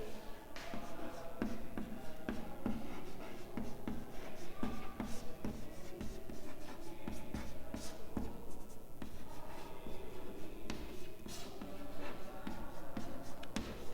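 Chalk or marker scratching steadily across a classroom board in a continuous stream of short strokes and taps, close and moderately loud, while a teacher talks quietly underneath.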